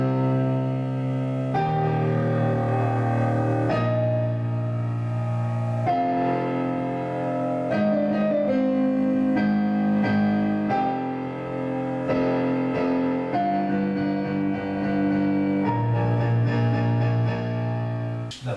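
Piano playing the Shin Godzilla theme with extra weight on the choir part: loud, sustained full chords shifting every couple of seconds, rich and resonant throughout, with no talking.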